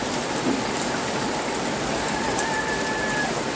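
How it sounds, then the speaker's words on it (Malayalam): Heavy rain pours down steadily in a dense, even hiss, close and loud throughout, with no voices. "നല്ല സൂപ്പർ മഴയാണ് പെയ്തുകൊണ്ടിരിക്കുന്നത്"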